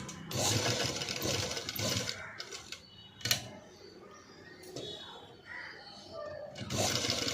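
A sewing machine runs double-stitch lines on a sleeveless cut-work blouse, in short bursts separated by pauses, moderately quiet and close, with faint room noise between runs.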